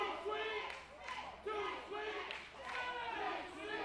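Wrestling crowd at an independent show chanting and cheering in rhythmic swells, loud and sustained, with a few voices standing out from the mass.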